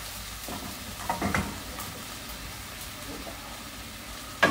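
Ingredients for kaldereta sautéing in a pan, a steady close sizzle with a few stirring scrapes and clanks, one sharper knock right at the end.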